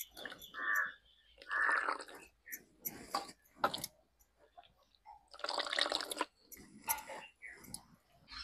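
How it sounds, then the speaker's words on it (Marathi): Grated cabbage is rinsed by hand in a bowl of water, giving soft splashing and squelching bursts that come in several separate rounds with quiet gaps between them, close by. "आता ते धुवून घेते."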